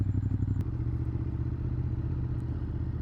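A 2018 Ducati Monster 821 motorcycle engine idles and rumbles steadily up close through a slow, tight U-turn, with a brief clunk near the start and a constant low throb throughout.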